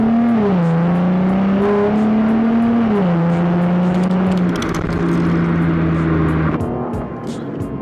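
A Cadillac's engine drones loudly and steadily while the car drives, its pitch dipping and shifting between gears, with a smooth continuous hum close to the cabin.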